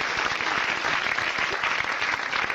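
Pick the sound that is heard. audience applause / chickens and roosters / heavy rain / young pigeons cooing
audience applause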